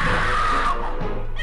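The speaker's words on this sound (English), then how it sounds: "Stop screaming." A scream in the horror video game Phantasmagoria, a sustained high, strained voice holding steady for under a second before breaking off into quieter vocal sounds, with a low background hum underneath.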